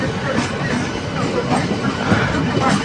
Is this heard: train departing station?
yes